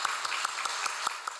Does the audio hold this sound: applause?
yes